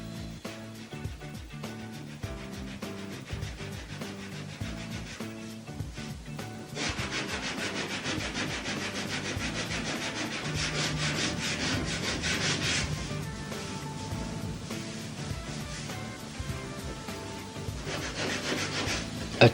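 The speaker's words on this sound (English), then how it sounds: "Check the repair frequently and sand very gently." Steady hand sanding of car body filler during a DIY bodywork repair, a continuous close rasping scrape with long even strokes, growing brighter and harsher partway through.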